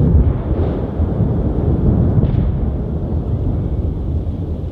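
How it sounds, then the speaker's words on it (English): Continuous low rumbling thunder rolls across a rainforest in spring in Australia ahead of heavy rain, a steady broad roar with no clear individual cracks, loud and unbroken throughout. "Thunder has been going on everywhere here."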